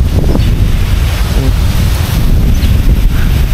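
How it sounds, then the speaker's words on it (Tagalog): Strong wind blows hard at the seashore in Matawe, Dingalan, Aurora, roaring steadily into the microphone and burying the surf underneath in a constant loud rumble with no talking. "Tignan nyo kung gaano kahangin"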